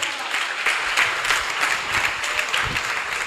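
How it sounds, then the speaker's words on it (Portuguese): Church congregation applauding during an evening service, a steady, fairly loud patter of many hands clapping that runs throughout, with no talking over it. "Você pode aplaudir o Senhor nessa noite?"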